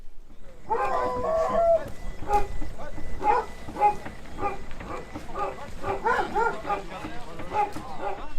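A pack of about twenty hunting dogs gathered for a wild boar hunt in Haute-Marne bark, yip and whine in rapid overlapping bursts, close and continuous throughout.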